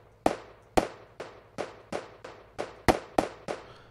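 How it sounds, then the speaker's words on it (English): Gunshot sound effect fired repeatedly in Unreal Engine MetaSound as a one-shot, eight sharp loud cracks at roughly even half-second intervals with slightly varied timing, each decaying quickly, alone without talk. "I want to randomly adjust the start time of the gunshot to give it some variation"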